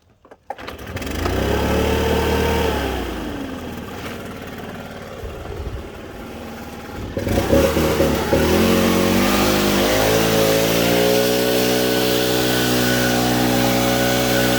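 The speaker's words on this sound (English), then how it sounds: "I'm going to start the backpack blower up real quick" A backpack leaf blower starts up beside fresh concrete work, idles roughly, then revs into a loud, steady, close engine drone that keeps running, with no voices.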